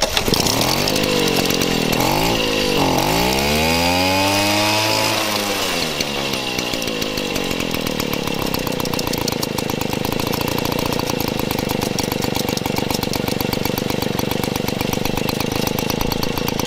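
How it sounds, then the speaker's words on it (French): A Motobecane AV76 moped's small two-stroke engine revs up with rising and falling pitch sweeps, then settles into a loud, steady buzzing idle close by, with no talking. "Démarrage du moteur sans caler, deuxième."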